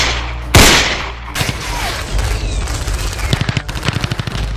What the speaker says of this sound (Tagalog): putok naman ng baril ang kanilang nabungaran at si Mang Bandong yung nakikipagbarilan